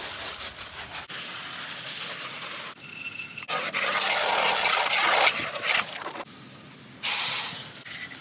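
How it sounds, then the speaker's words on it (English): Water sprayed at close range while washing a 2013 Honda Rancher 420 ES ATV, a loud continuous hiss that surges and shifts in tone as the stream hits different surfaces, with brief breaks and rough spattering. "So the final step now is giving it a wash."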